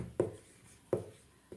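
Three quick, separate strokes of writing on a board, each a short scratchy tap followed by a brief soft scrape, fairly quiet in an otherwise calm room.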